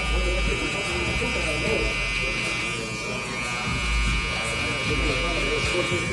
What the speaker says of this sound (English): we're just going to go in with our clipper.